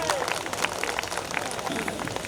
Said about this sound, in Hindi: तालियां बजाते, सच बात है ये।